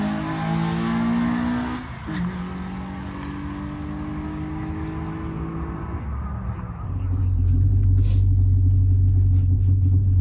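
A 2022 Subaru WRX on E30 fuel and Michelin Pilot Sport 4S tires at an eighth-mile drag strip revs and shifts through the gears in a steady loud drone, then settles into a deep, heavy rumble near the end.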